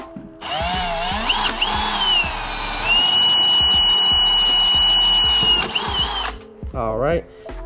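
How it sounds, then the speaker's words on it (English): Power drill boring holes while snorkel risers are installed on a 2023 Can-Am Outlander 850 XMR ATV: a loud, steady whine with pitch rising as the bit bites, stopping abruptly, then a short burst of talk. "what I'm gonna do is drill in a little bit and just kind of step it up"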